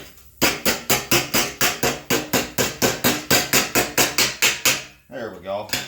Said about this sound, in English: So I'll grab my hammer and dolly.